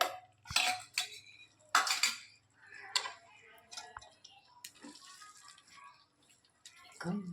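A spoon scrapes and clinks against a pan while paneer gravy with fried cashews and fresh cream is mixed, irregular metallic taps and knocks, close, with quiet gaps between strokes.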